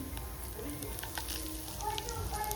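Cumin seeds and asafoetida sizzling in hot oil for a cashew gathiya curry, a steady, close crackling fry with faint voice-like tones under it.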